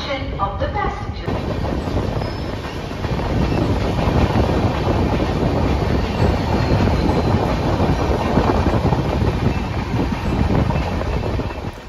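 Tamralipta Express passenger train from Howrah running past Santragachi, heard from inside the coach: a loud continuous rumble and rattle of wheels on rails with rushing wind noise, steady throughout after a brief quieter start.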